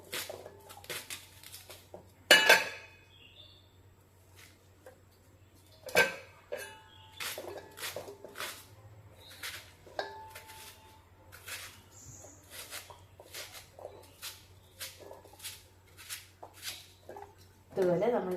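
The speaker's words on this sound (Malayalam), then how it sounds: "ചേനത്തണ്ട് ഇതുപോലെ അരിഞ്ഞിടുക." Elephant foot yam stalks are sliced into pieces on a board, giving a string of short, crisp knife taps and chops that come in an uneven rhythm, close by and fairly faint, with a voice speaking at times.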